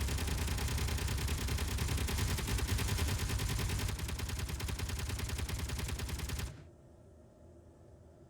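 Rapid continuous gunfire from units shooting at a base in the Underground Alone video game, a steady loud rattle of many fast shots that stops abruptly, leaving quiet background hum.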